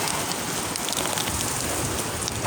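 Steady, dense rain falling outdoors and pattering on a phone and nearby surfaces, a loud unbroken hiss with no voices.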